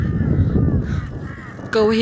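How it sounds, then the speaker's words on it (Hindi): Many crows gathered where people have been scattering grain, cawing loudly and repeatedly, with harsh overlapping calls and a louder, sharper burst near the end; a person is talking at the same time. "उन तीनों ने दाना दे देकर इतने सारे कौवे इकट्ठा कर दिए हैं यहाँ पर।"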